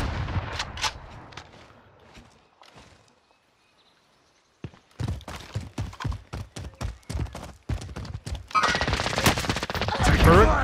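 Video game gunfire from another team in a factory area, bursts of sharp shots spread across the moment, loud and close in places, with a dense rapid volley near the end and a quiet gap in between.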